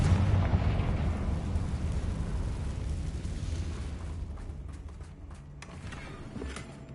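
Bombarda and Confringo spell blasts in the Hogwarts Legacy game, a loud rumbling explosion with a long roaring decay that gradually thins out, followed by fainter crackling debris.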